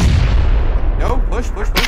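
In a team shooter game, a grenade blast booms loudly at close range, followed by a few sharp gunfire cracks toward the end.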